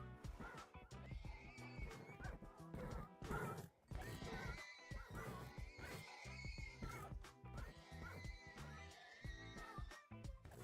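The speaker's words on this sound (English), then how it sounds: "The sounds of horses screaming." Horses neigh and whinny repeatedly in Minecraft 1.21.4 survival over a dense, busy backdrop of game sound effects and clatter, loud and continuous throughout.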